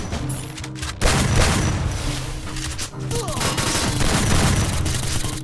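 Rapid gunfire in the Free Fire video game, dense bursts of shots and booms filling the clip with a brief pause midway, loud and close.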